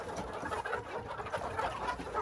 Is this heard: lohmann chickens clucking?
yes